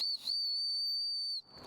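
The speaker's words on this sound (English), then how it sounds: "an emergency whistle I can use" A paddleboarder's emergency whistle gives one long, shrill, steady blast of just over a second, loud and close.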